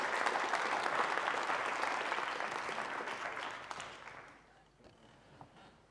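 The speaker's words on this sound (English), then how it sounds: "So a big round of applause for Doug Belshaw and Tim Riches." Audience applause for speakers at an emerging-technologies talk, a dense burst of many hands clapping that stays steady, then tapers away over the last couple of seconds into room quiet with a few stray sounds.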